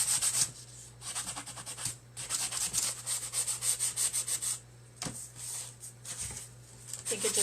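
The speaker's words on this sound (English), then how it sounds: "then use your sanding block on it." A sanding block scrubs over wood coated in layered paint for a rustic finish, giving repeated raspy back-and-forth strokes in close bursts separated by short pauses, with a steady low hum underneath.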